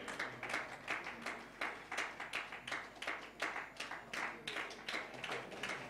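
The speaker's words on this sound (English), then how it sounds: "Please put your hands together and welcome Mr. Sultan Saeed Al Alavi." Audience applause at a company event welcoming a speaker to the stage: a steady run of fairly loud, closely spaced hand claps from many people, filling the room for the whole stretch.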